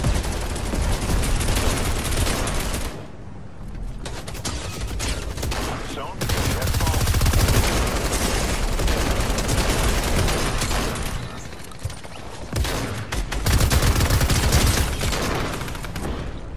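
Heavy shotgun and SMG gunfire in Fortnite, with a dense, continuous barrage of shots and brief lulls between loud, sustained bursts.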